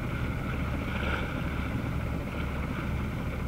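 A sailboat motoring under engine with two sails set at sea, a steady low engine drone blended with rushing wind and water noise, continuous and close throughout.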